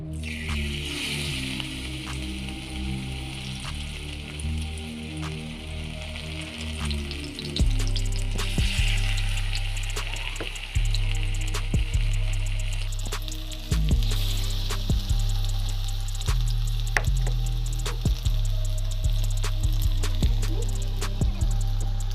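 Taro flower fritters sizzle in hot oil in a wok, a continuous frying hiss dotted with sharp crackles and pops that grows louder partway through and stays close and busy.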